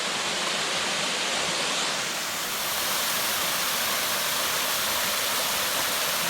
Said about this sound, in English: I guess this is an unnamed fall.